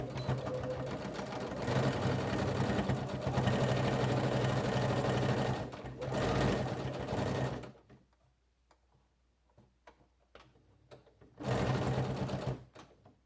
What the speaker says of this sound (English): I'm just going to sew right along close to the zipper, back stitching when I start.